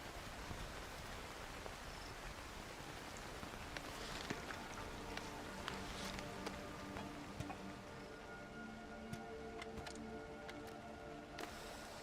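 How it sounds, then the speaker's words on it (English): Rain falls outside in a free-climbing game, a steady, even hiss of drops with faint scattered ticks running unbroken throughout at low volume. "I hear the rain out there."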